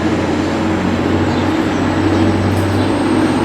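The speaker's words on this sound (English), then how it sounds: "Right, our train is approaching." Train drawing into Dewsbury station platform, a loud steady low rumble and rolling roar held close and constant throughout, with no voices.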